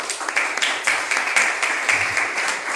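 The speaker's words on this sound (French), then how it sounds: "Si vous pouvez applaudir Medgachette" Audience applause honouring Me Gachette at a school tribute ceremony for a lycée graduating class, a steady wash of clapping from a crowd lasting the whole moment at moderate level.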